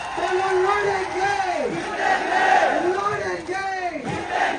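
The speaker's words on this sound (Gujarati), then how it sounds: "તમને હાથ ઉપર કરી તાળી વગાડીને મને કહેવાનું છે, બોલો લડેંગે" A large crowd at a political rally chants the battle cry 'ladenge' in unison with clapping, the loud massed shouts rising and falling in a steady repeated rhythm.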